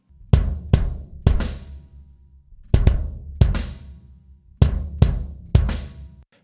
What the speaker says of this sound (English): that's a big balls kick drum sound